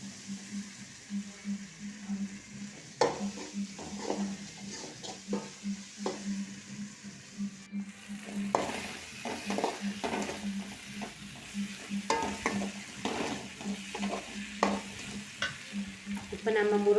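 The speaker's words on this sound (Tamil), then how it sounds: "இந்த தக்காளி நல்லா வதங்கி வரும், சீக்கிரமாக வதங்கும்" Tomatoes sautéing for a drumstick curry are stirred in a pan, giving a continuous sizzle broken by repeated scrapes and clinks of the spoon against the metal, close and steady, with a low hum underneath.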